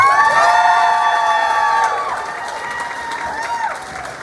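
A crowd at an outdoor recovery walk event cheers, whoops and applauds for a speaker, a loud dense wash with high shouts and whistles that eases slightly toward the end.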